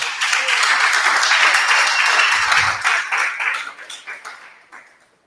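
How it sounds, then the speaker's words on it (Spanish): A church congregation applauds, loud dense clapping sustained for a few seconds before thinning out into scattered final claps and fading away. "Aplaudamos al Señor."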